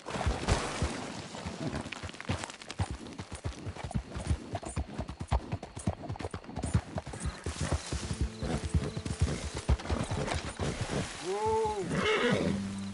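A horse in Red Dead Redemption 2 video game ridden at pace, loud rhythmic hoofbeats over game ambience, ending in a clear whinnying neigh near the close.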